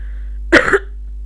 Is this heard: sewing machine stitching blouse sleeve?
no